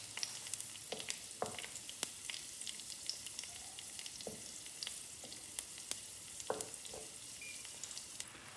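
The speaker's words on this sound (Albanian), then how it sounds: "vendosim hudhrën, po ashtu edhe këmbët e majdanozit, që kur fillon e nxefet vaj, të skuqet avash" Garlic and parsley stems fry gently in oil, a quiet, continuous sizzle with scattered small pops and occasional stirring clicks close by.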